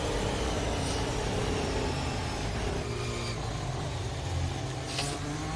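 Racing car engines drone continuously in a wet-weather sim racing game at a Singapore circuit, a steady mid-loud hum with passing whooshes and no voices.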